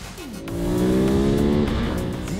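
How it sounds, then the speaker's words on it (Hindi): A 2021 Ducati Monster accelerates hard, its engine note climbing steadily in pitch as it gains speed, loud and close with no talk over it. "एक्सेलरेट करने पर यह तेजी से रफ्तार पकड़ती है"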